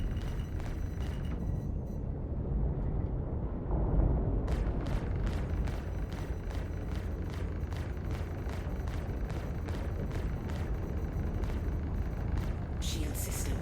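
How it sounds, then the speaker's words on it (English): Missiles launched from a Drake Clipper spaceship in a space combat video game, a rapid series of sharp, crackling bursts over a steady low engine rumble, with a voice talking throughout. "Shoot a couple missiles off, and then we'll go ballistics and lasers."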